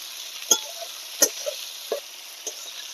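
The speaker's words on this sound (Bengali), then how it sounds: "এবার পেঁয়াজটাকে আমি একটু লাল করে ভাজতে থাকবো।" Onion frying in a pan over low heat hisses with a steady sizzle, broken by four or five sharp scrapes and clinks as it is stirred, close and alone without voices.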